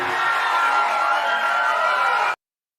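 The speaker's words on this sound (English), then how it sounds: "And I'm going to give you guys a cheer." A crowd cheer effect plays on a live stream, a steady wash of cheering and whooping voices at even loudness for a couple of seconds before cutting off abruptly into silence.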